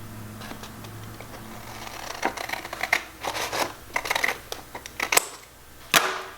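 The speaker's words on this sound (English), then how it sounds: "you're going to make one cut right along that line." Scissors cut once along a line through folded craft paper: a run of close, crisp snips and rustles rising over a few seconds, loudest near the end, with no talking.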